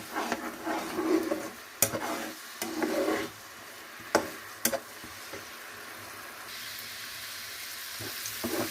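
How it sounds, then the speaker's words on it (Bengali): Spice paste of ground cumin and garlic frying in a pan, with a steady sizzle, repeated scraping stirs and sharp utensil knocks against the pan, close and fairly loud. "মশলাটা আমি ভালোভাবে কষিয়ে নিব"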